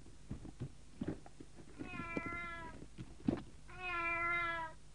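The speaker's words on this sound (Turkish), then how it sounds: "Bu bir kedi." A cat meowing nearby, two drawn-out, clear meows separated by a pause, with faint soft knocks and handling noises around them and no one talking.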